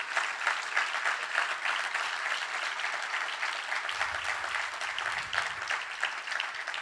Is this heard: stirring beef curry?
no